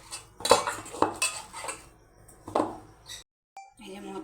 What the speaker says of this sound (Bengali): এই যে মোচা আমি জল ঝরিয়ে নিয়েছি, এবার ঢেলে নেব বাটিতে।